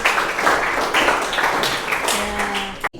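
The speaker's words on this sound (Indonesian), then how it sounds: "Tepuk tangan untuk kelompok 1." Classroom students applauding a presenting group, a brisk burst of scattered hand clapping, close and fairly loud, that keeps going for about three seconds and stops abruptly at the end, with a faint tone briefly in the background.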